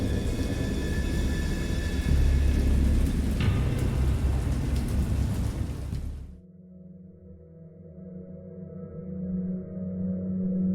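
Heavy rain roars loudly and steadily with a deep rumble of thunder, then cuts off abruptly to a quieter, low tonal drone.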